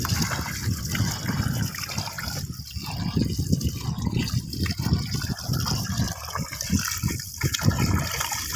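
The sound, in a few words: washing chopped chicken liver pieces in water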